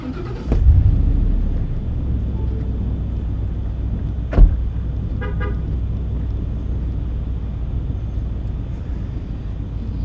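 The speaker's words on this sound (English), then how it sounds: "if you can't tell, we are dealing with cars" Road traffic near Charlotte Douglas Airport: a steady, moderately loud car rumble with a couple of sharp horn toots and brief clicks standing out above it.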